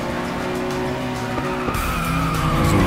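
A car in the demolition racing game FlatOut Ultimate Carnage roars along at speed with a steady engine drone, its tyres squealing in a long skid that grows louder toward the end.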